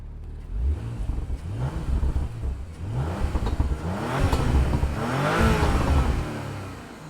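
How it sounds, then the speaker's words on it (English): Exhaust of a 2023 Porsche Macan S heard from outside near the tailpipes, revving repeatedly in rising swells with a deep, throaty note that grows louder toward the end. "Now let me just do another outside, like more towards the exhaust."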